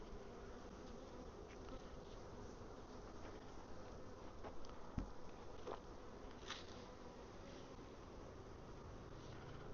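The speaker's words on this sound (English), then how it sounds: "A lot of bees." Many honey bees buzz steadily around an open hive full of honey supers fitted with a queen excluder, a dense continuous drone close by with occasional louder passes of single bees.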